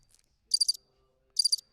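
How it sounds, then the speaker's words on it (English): Crickets chirp in two short, bright bursts of rapid pulses, each pair of trills separated by near silence, close and clear with no talking. "Guys, crickets?"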